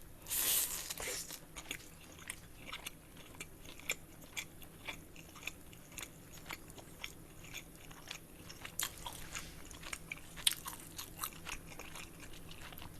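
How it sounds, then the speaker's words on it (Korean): Someone eats black cheongyang pepperoni pizza up close, making repeated crunchy bites and soft, wet chewing sounds at an irregular rhythm, with no talking. "다시 한번 먹을게요"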